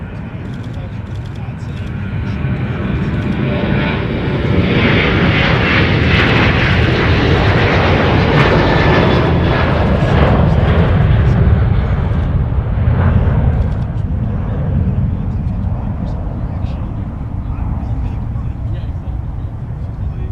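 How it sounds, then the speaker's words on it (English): Sun Country Boeing 737 taking off from the south parallel runway at Minneapolis–St. Paul, a loud sustained jet roar that swells and holds steady across the whole stretch with no talking. "Here's another Tide Pod 737 departure on the South Parallel."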